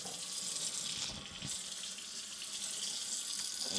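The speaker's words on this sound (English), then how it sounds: "Turn the water on to warm, not hot." Warm water runs steadily from a kitchen faucet into a sink, a continuous close splashing rush with no pauses and no talk.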